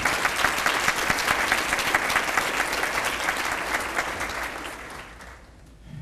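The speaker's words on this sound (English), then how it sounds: "So I would like you to give yourselves a round of applause." Teachers and students at a school achievement recognition event applaud themselves, brisk crowded clapping that gradually thins and fades out over six seconds.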